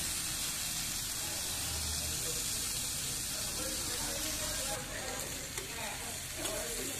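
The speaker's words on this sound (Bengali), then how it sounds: "ভালো করে নাড়াচাড়া করে নেব।" Papad curry seasoned with salt and ground black pepper fries in a pan, giving a continuous hissing sizzle with soft stirring scrapes that grow busier toward the end.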